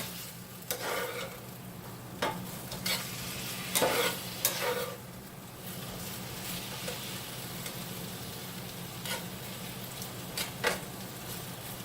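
Oil-coated potatoes fry slowly in a pan with a steady, soft sizzle, broken by periodic scraping clicks from stirring; no one speaks.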